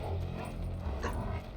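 A dog whimpering and yipping inside the video game GTA V, a short continuous whine set against a steady low game rumble.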